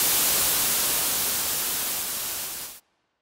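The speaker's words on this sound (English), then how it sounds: "a simple white noise will do" A modular synth noise source, patched in VCV Rack as a Buchla-style system, plays steady bright white noise that hisses for nearly three seconds, then cuts off abruptly into silence.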